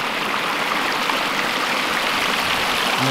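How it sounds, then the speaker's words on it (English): A small creek in Pacific Creek Valley spills over a little waterfall, a steady close rush of water with dense splashing and no pauses. "And you follow this little creek, and there's a little waterfalls."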